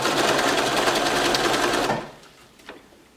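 A sewing machine rattles in a fast, even zigzag stitch along the edge of a cloth diaper for about two seconds, then stops, leaving a few faint handling clicks.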